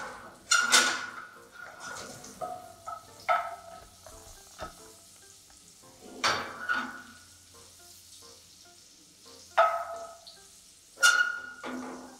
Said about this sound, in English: The moment our butter starts frothing, we will add our potatoes and cook the potatoes till it develops a nice brown crust.